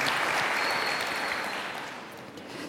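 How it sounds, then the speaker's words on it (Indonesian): Church congregation clapping for the worship team at a service, a short burst of dense applause that starts full and tapers slightly over under three seconds. "Bisa kasih tepuk tangan buat tim worship kita."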